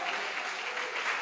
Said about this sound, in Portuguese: Bata palmas e glorifica a Jesus.